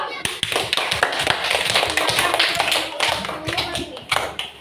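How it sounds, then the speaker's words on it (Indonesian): A classroom group claps for another group during a lesson, with many sharp, uneven hand claps close by in quick succession and voices talking among them. "Ya, bisa kasih tepuk tangan dulu."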